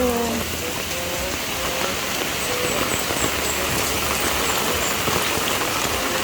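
Heavy rain pours steadily in a dense, even hiss, with a faint engine rumble underneath.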